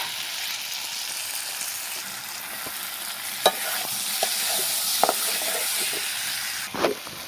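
Fried potato and raw banana pieces are stirred into sizzling spice masala, a loud continuous frying hiss with occasional scrapes and clacks of the spoon against the pan, no voices.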